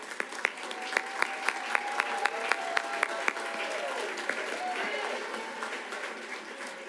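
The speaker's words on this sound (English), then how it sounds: "Let's give another round of applause" Applause from a crowd at a school board meeting, a steady wash of many hands with a few sharp, close claps standing out in a regular beat, while people talk underneath.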